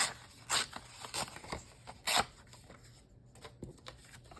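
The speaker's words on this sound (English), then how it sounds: "So I'm just gonna tear this" Paper being torn by hand to make a base for layered craft embellishments, several short ripping bursts and rustles at close range, quiet, with no talking.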